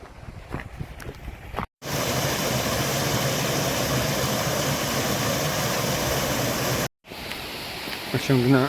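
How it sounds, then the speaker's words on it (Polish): White water of a mountain stream in the Tatras rushes in a loud, steady, full roar for several seconds, cut off abruptly at both ends, with quieter outdoor sound and some talking around it. "szumi nam pięknie biała woda"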